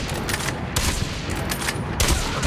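A sniper rifle in Call of Duty Mobile fires in quick succession, with sharp repeated cracks over a busy game background and no talk.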